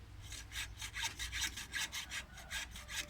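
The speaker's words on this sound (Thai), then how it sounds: "เลื่อยเลยครับ" A hand saw cuts back and forth through wood in steady, rhythmic rasping strokes, about three per second, close but fairly quiet, with no voices.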